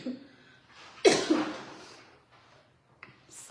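A person coughs, a single sharp cough followed by a second smaller burst, close and fairly loud against quiet surroundings, with soft breathing and a faint noise near the end.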